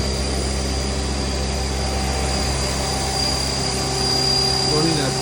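A 2006 Haas GT-20 toolroom lathe spins its spindle at maximum RPM with no load, giving a loud steady high-pitched whine and drone that swells slightly near the end.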